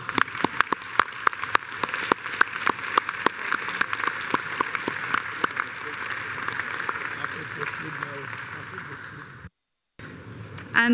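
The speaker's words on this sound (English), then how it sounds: "I wish to ask that the Assembly joins in expressing our appreciation by her applause" Assembly delegates at a ministers' council session in Lomé, Togo applaud the chair, a dense, sustained patter of clapping with sharper individual claps, fairly loud and steady before a brief gap and a voice.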